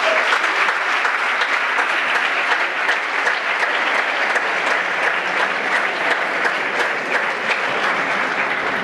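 An audience at a video game industry awards gala in Barcelona applauds. A full, even wall of clapping holds at a loud, steady level for nearly nine seconds, with no voices above it.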